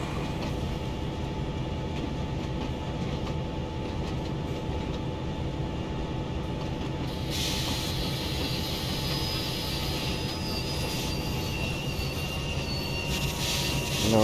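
Freight train on the Caltrain line in a train simulator game rumbles steadily for the whole stretch, with a broadband rolling roar, faint wheel squeal and a brighter hiss coming in partway through; no talking.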